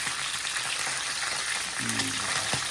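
Fish pieces frying in hot oil in a pan at home, a steady broadband sizzle and crackle running throughout, with a brief low murmur of a voice near the end.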